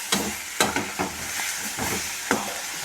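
Pirandai and coconut frying in a pan, giving a soft, steady sizzle. Several sharp scraping stirs cut in at irregular intervals, close and clear.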